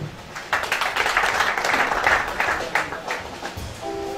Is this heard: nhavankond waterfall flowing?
no